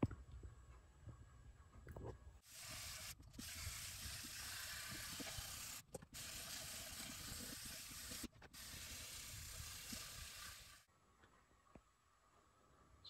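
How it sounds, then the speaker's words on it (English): Steady scratchy hissing of 400-grit sandpaper rubbed over a wooden guitar's finish in long strokes, with brief pauses between passes, close and fairly loud. "This is after sanding with 400 grit."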